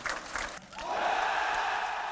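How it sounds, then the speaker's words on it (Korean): A crowd gives a burst of sustained applause for Air Force recruits at a Korean enlistment ceremony. After a brief lull, a dense wash of clapping builds and continues evenly at moderate distance. "예비 훈련병들을 응원하는 힘찬 박수 속에서"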